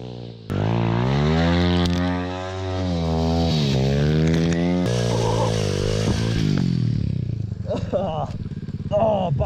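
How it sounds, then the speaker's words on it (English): A rider sets off on a new motorcycle, its engine droning loud and close with rising and falling revs through the ride, fading into rougher, uneven clatter near the end. "gonna go for a ride with the new bike"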